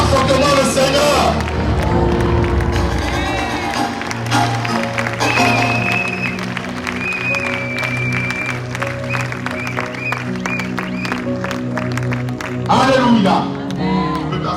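A church congregation claps and cheers loudly for the Lord, sustained applause and shouts mixed with music and voices, swelling again near the end.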